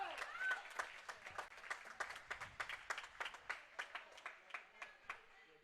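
A crowd at a women's college tennis match applauds in a steady run of claps, with fainter cheers and a commentator's voice underneath.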